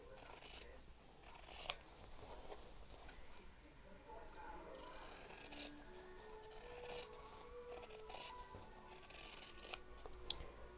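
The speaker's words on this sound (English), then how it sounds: "So trim the seam allowance to about half its size." Sewing scissors trimming a fabric seam allowance on bunting, a series of quiet close snips and rustling cloth spread across the stretch, faint and near, without speech over it.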